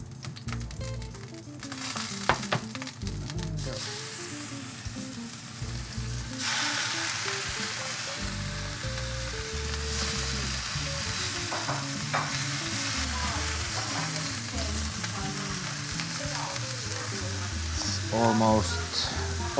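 Meat sears in a very hot pan with a loud, steady sizzle and frying hiss throughout, stirring and scraping noises scattered over it, and faint voices in the background.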